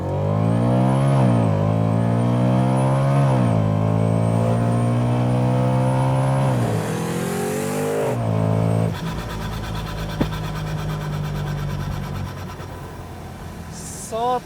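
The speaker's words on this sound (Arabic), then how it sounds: "صوت البرو تشارج" A BMW M3 G-Power supercharged engine of 750 horsepower, with methanol injection, revs hard with a rising and falling whine and harmonic roar over several throttle blips, then drops to a rough, loud idle, close up with a voice talking over it.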